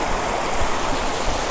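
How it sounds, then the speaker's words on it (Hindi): Water pouring down Sirsi waterfall in Mirzapur makes a steady, loud, close rushing roar that holds unbroken throughout, with no voices. "आप देख सकते हैं यहीं से पानी नीचे फॉल में गिरता है।"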